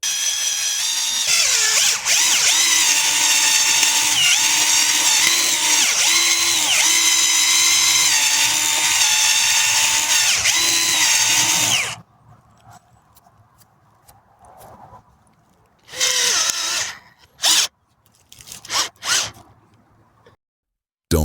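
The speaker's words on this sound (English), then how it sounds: "This time, we drill directly into the trunk." A power drill whines loudly and steadily for about twelve seconds while boring into a tree trunk, then falls quiet, followed by a few short, sharp bursts of drilling.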